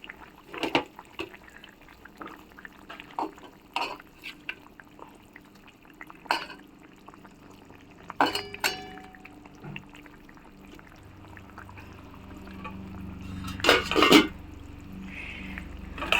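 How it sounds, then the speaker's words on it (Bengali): Fried fish go into a pot of boiled potatoes and flat beans for a thin fish curry, with scattered splashes, wet plops and utensil clatter, followed by a swelling bubbling simmer near the end, close by. "এবার এখানে ভেজে রাখা মাছগুলো আমি সব দিয়ে দেব।"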